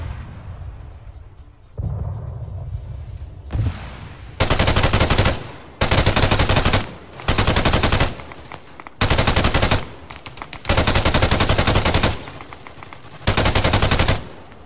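Machine gun fire in ArmA 3 comes in loud, sustained bursts of roughly a second each, repeated several times with short gaps, over a low engine-like hum that starts quieter before the shooting.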